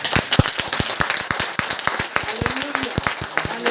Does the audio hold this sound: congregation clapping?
yes